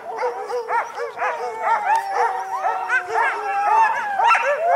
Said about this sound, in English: These dogs are very excited.